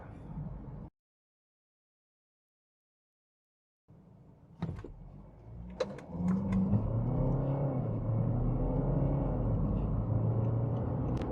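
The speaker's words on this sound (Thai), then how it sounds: "เครื่องยนต์ดีเซลก็ถือว่า เงียบเลยครับ" A few clicks and a thump, then a BMW X3 xDrive20d F25's 2.0-litre diesel engine rumbles up and revs, heard steadily from inside the cabin.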